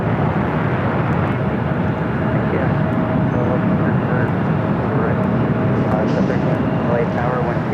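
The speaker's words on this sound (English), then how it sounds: "767 now on its way to JFK." Boeing 767 jet taking off from LAX, a dense broadband engine roar holding steady and loud throughout, with radio chatter and voices running underneath.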